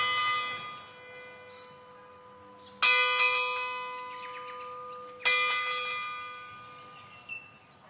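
A bronze bell rings with a bright metallic strike followed by a long, shimmering hum that slowly decays, then is struck twice more at intervals of a few seconds, each strike clear and resonant.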